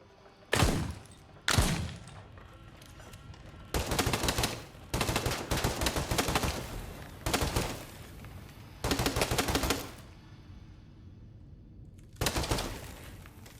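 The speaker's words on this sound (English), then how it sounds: "Submachine gun's definitely a fun weapon." Submachine gun fire in Crisol: Theater of Idols, loud close bursts of rapid automatic shots, two short ones first, then several longer sprays separated by brief quiet gaps.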